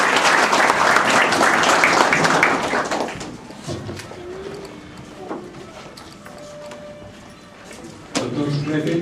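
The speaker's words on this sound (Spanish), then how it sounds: "Vega, director de Cultura de Lambayeque, a quien lo recibimos con fuertes aplausos, por favor." Evening book-launch audience applauds to welcome a speaker, with dense clapping for about three seconds that fades into scattered claps and room murmur, then a louder burst near the end.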